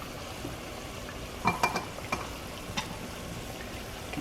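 Churro dough frying in hot oil, giving a steady, faint bubbling sizzle with a few soft clinks of utensils near the middle and no talking.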